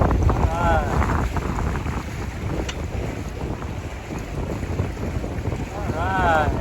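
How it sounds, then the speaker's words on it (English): Sailboat under way in wind, with steady wind buffeting the microphone and water rushing along the hull throughout, plus brief creaks or whistles near the start and end. "Catching the wind and we're sailing now."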